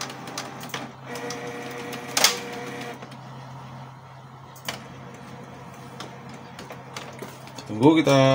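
An inkjet printer, Canon or Epson, runs a test print with a right side that smears dirty, giving steady mechanical whirring, clicks and ticks from the carriage and feed, close and moderately loud, with brief talk early on.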